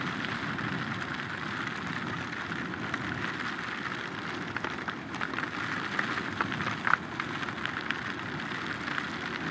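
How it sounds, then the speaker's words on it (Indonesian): Heavy rain pours steadily on a street in Jakarta, a dense, even hiss with no break and a few faint knocks near the end. "Kalau hujannya awet kayak begini bisa banjir nih."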